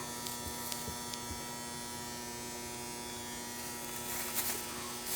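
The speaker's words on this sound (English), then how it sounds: "Yes, dryer, we hear you." A clothes dryer runs in a home kitchen, giving a steady electric buzz and hum that holds constant at low volume throughout, with a few faint clicks and rustles nearby.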